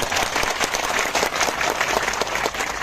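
A crowd at a political rally in Gujarat claps loudly and steadily, a dense wash of applause with scattered sharper claps, carrying on without a pause and with no talk over it.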